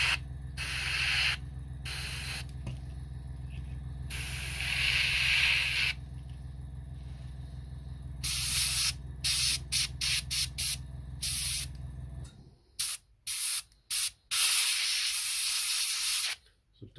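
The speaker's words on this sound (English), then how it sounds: "Double action airbrush, I'll just push the air in, spin the wheel up, and then a little bit of paint in." A double action airbrush sprays paint onto a Bachmann 16T model coal wagon, giving repeated hissing bursts of varying length, close and fairly loud, over a low steady hum that drops away near the end.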